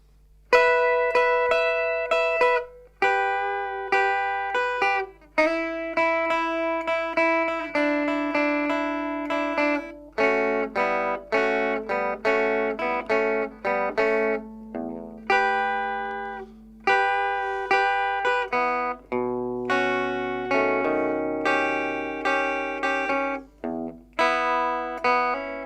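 Clean rockabilly electric guitar plays the opening phrase of a song slowly, single notes and double stops ringing out in a repeating lick with brief gaps, alone and up close.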